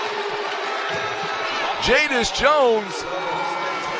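Basketball crowd at a Class 3 state semifinal, Thayers Bobcats vs NMCC Eagles, booing and reacting to a referee's call; two swelling vocal outbursts rise over a steady arena murmur while a commentator talks.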